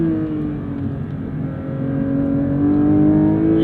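A manual Porsche 992.1 GT3's rear-mounted engine pulls hard on throttle, a close, rising rev climbing steadily in pitch and loudness inside the car.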